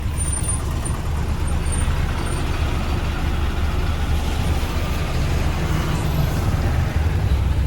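A Karnataka bus on the road gives a loud, continuous rumble of engine and road noise that stays steady and close for the whole stretch, with no talking.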